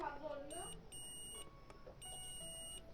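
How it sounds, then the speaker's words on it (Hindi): A multimeter in continuity mode beeps while testing the coil of an AU-40XT/AU-50XT speaker driver unit: steady high electronic tones switching on and off in three bursts, after someone briefly talks at the start. "ऊपर बीप का साउंड आ रहा है।"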